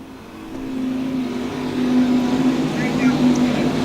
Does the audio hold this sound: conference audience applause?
no